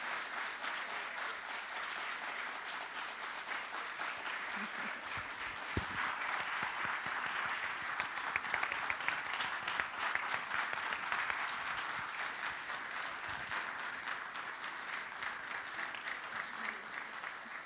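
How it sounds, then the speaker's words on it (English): Sustained audience applause at a startup demo day in Amman, a thick wash of clapping that holds steady and slightly swells midway, with a few louder claps standing out. "help me show them my appreciation with a big round of applause"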